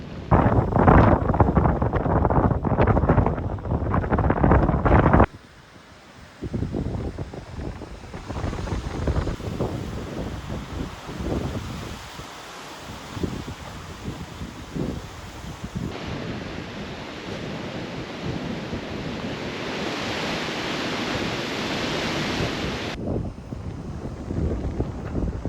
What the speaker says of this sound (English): Very fresh with this wind